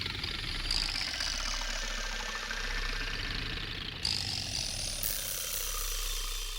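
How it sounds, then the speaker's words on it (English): Korg Wavestation Alien Vibraslap synth patch, unmodified: a dense, buzzing metallic drone with a rumbling low end, swelling bright layers entering in stages, sustained and loud throughout. "the next sound effect here comes from the Korg Wave Station. This is the Alien Vibraslap patch."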